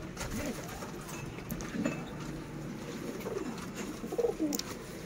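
Sialkoti pigeons coo softly from a rooftop loft, low murmuring calls scattered through a steady ambient backdrop, a few louder coos near the end.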